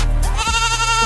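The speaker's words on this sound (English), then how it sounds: "This goat is not happy about his mama being stuck." A goat bleats loudly up close, a single drawn-out wavering cry that rises and holds, with a short burst of noise just before it.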